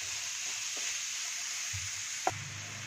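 Finely chopped medium onions sizzle steadily in a hot pan while being stirred, with a soft scrape and one sharp knock of the spoon over the constant frying hiss.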